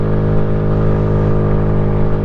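A motorcycle engine, not a KTM, hums loudly and steadily while riding, a constant close drone with strong low harmonics and no change in pitch, no voices.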